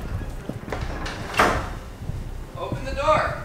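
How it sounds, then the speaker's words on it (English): A locked garage door is tried and fails to open, giving one brief, sharp rattle and knock partway through amid voices and background noise. "so let's try the garage door"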